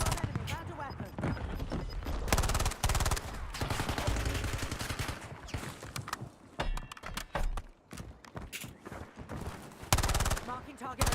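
Rapid bursts of gunfire from the Warzone video game crack through the mix, with dense automatic volleys and single shots overlapping under in-game voice callouts, loud and close.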